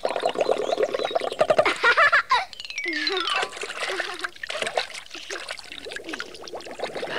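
Cartoon water sounds as a bee dives under the surface: bursts of splashing and bubbling gurgles, with pouring and trickling water that fades to quieter dribbles, heard alone at close range.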